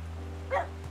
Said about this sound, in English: Oh, there's slightly different tones of bark.